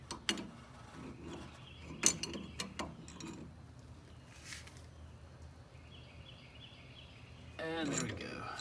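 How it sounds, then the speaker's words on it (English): A crescent wrench tightens a 7/8 nut on a Fox-body front suspension's tie rod and A-arm, making a few sharp metallic clinks and taps followed by a louder scraping burst near the end. "So I'm just gonna tighten this nut down. It's a 7/8."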